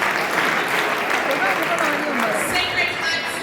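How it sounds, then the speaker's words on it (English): A school audience at a debate championship grand final claps continuously as the teams walk forward, steady dense applause at a strong level, with a voice faintly audible underneath. "Please clap for them as they come."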